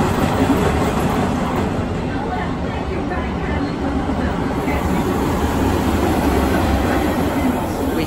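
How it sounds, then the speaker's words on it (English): The mine train ride at Disneyland Paris rolls steadily along its rails in a loud, constant rumble with no pauses, heard up close from on board. "mine train."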